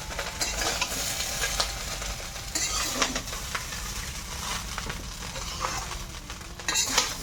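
Fried rice stirred in a pan, with a steady sizzle under repeated scraping and clinking strokes of a spatula against the pan, close and continuous throughout, no talk.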